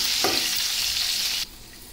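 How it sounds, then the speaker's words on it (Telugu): Onions fry with curry leaves and coriander in hot oil, giving a steady close sizzle with a brief stirring scrape early on before the hiss drops suddenly near the end. "మనం తీసుకున్న ఆనియన్స్ కూడా వేసుకొని ఫ్రై చేసుకోవాలి."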